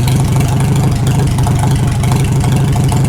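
A Farmall H tractor engine runs loud and close with a steady low throb as its carburetor runs nearly dry, the rhythm holding on without any voices over it.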